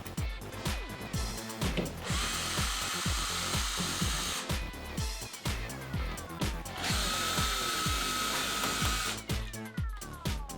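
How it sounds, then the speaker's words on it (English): Power drill unscrewing the two taillight screws on a 2016-2018 Chevrolet Silverado 1500 pickup, heard as two sustained high whirring runs with busy clattering and knocking around them, close and fairly loud. "I'm using a drill, but you can just use a regular ratchet set if you have that too."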